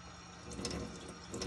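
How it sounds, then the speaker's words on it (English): Water runs steadily out of a Kangen water machine in a continuous, even, close rush with faint splashing and no talk. "Just let it run, run for a minute. Getting all the water that's in the machine out."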